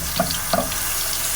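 Water poured into a pan while cooking chicken nuggets à la king, a short tap-like splash in two quick bursts, close and fairly loud, no talking.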